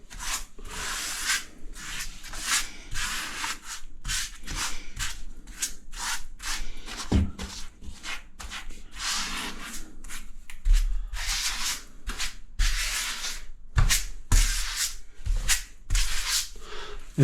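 Grout being worked into tile, a run of brisk scraping and rubbing strokes that come in quick repeated bursts, close and fairly loud, with no voices.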